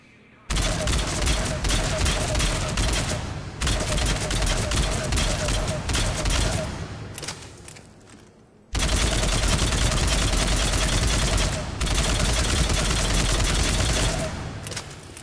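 The Phaeston assault rifle in Mass Effect 3 fires in long, loud bursts at close range, two sustained strings of rapid shots separated by a short pause.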